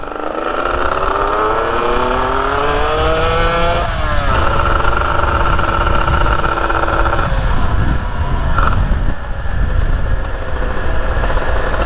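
A Honda NS250R two-stroke motorcycle engine runs steadily and loud, its buzzy mid-range note rising and falling with revs, close by and alone.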